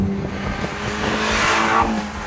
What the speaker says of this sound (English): the exhaust pumps out more carbons, allowing you to rip and crackle through the gears